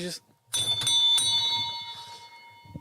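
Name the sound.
bell ringing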